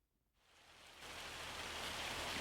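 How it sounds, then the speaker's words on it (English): Hail falling outside, a faint patter that swells within a second into a steady, dense hiss of hailstones hitting surfaces, with no voices. "Yes, it's still hailing."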